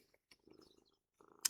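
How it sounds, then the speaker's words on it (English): A cat purring softly up close in short, faint rumbling bursts, with a brief brighter scratch at the end and no talk. "give them some love and purr for them"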